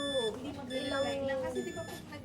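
A Keystone Saveris base unit alarm sounding a steady electronic tone with stacked harmonics, continuous across the whole stretch, heard indoors under faint background voices.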